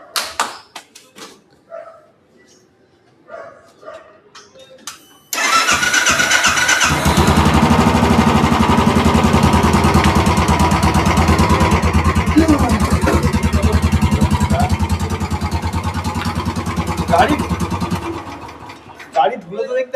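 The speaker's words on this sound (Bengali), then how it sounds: "অনেকদিন পর বাইকটা অন হবে।" Motorcycle parked for a long time, brought to life after a few quiet clicks and light sounds, then the engine catches and runs in a loud, steady close idle for over ten seconds before cutting out.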